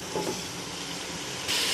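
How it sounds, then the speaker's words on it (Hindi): Ginger garlic paste frying in a pan for mutton korma gives a steady, dense hiss that swells louder near the end, continuous and close with no voices. "और इसकी स्मेल खत्म होने तक इसको हम अच्छे से भून लेंगे"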